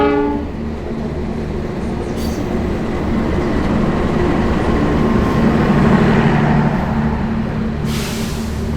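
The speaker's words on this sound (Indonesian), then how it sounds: "Yuk kita akan lihat untuk rangkaiannya masuk di jalur 4 nih teman-teman." Pandalungan passenger train with first-generation stainless steel executive coaches built in 2018 rolls into platform track 4, a steady loud rumble of wheels and cars close by, with a brief high hiss of air brakes near the end.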